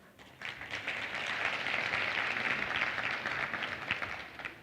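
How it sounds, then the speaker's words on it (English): A crowd applauds steadily at a university graduation ceremony, a dense wash of clapping that swells and holds, heard from a moderate distance with no talking. "And I'd like you to applaud yourselves."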